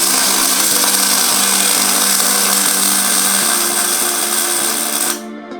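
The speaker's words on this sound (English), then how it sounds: "I'm just gonna basically grind these down a little bit so they look pretty." Angle grinder grinding down steel welds on a DIY steering angle kit for a Nissan 240SX drift car: a loud, steady, harsh high whine with gritty abrasive hiss, running continuously close by before cutting off abruptly near the end.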